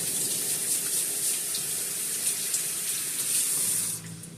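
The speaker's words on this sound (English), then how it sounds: "Let me wash my hands." Hands washed under a running kitchen tap after kneading cinnamon roll dough, a steady close splashing gush of water that drops off abruptly near the end.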